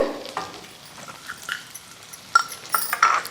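Chopped garlic and ginger fry in melted butter in a pan, a quiet sizzle broken by a few sharp clinks and scrapes of a spoon stirring against the metal.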